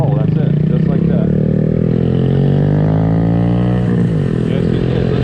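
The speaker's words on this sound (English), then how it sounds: "set the throttle, we slowly start to let the clutch out, and then we start to roll" Honda Grom motorcycle idling, then pulling away in a neighborhood as the clutch is let out, its loud, near engine rising in pitch over continuous talk.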